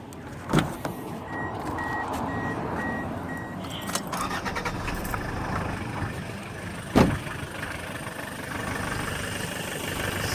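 A Toyota Verso starts up after a jangle of keys, a brief cranking burst followed by a steady idle hum, with a second sharp clunk partway through and no talking.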